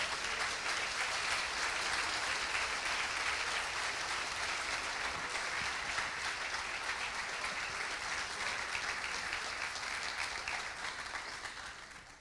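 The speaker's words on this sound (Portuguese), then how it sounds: "Vamos aplaudir ao Senhor da glória." A church congregation applauds at length during a worship service, a dense, steady roar of many hands that holds even and then thins slightly at the end, with no one speaking.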